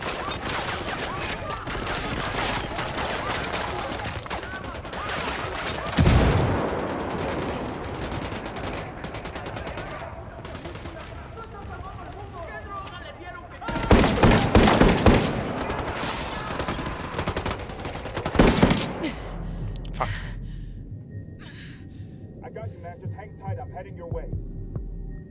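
Bursts of automatic gunfire and heavy blasts in the tactical shooter Ghost Recon: Wildlands, loud volleys rising and falling over a low hum, with voices talking between and over the shots.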